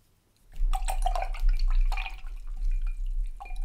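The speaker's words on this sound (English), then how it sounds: "then I'm gonna rinse out my brush" Paintbrush rinsed in a cup of water after acrylic sunset painting: close, sustained swishing and light splashing with small drips and clinks, running alone for a few seconds.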